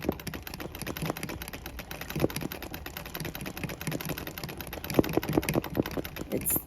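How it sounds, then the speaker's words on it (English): Treadle sewing machine overstitching during embroidery, a fast rattling clatter of needle strokes running continuously at moderate level, with a few sharper clanks standing out. "you're going to see it starts making the clanky noise"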